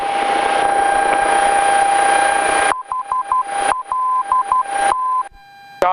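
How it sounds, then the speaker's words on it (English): Morse code station identifier tones on an aircraft nav radio during private pilot training, a faint steady tone over radio hiss, then clear, loud rhythmic beeps in dot-dash bursts with a short squelch at the end. "Make sure you pull this out and turn up the volume, and then you can listen to the Morse code."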